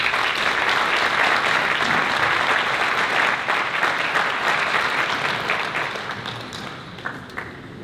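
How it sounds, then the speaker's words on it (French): An audience at a municipal New Year's greetings ceremony in Banyuls-sur-Mer applauds loudly, the dense clapping gradually thinning and fading toward the end. "Et on peut les applaudir."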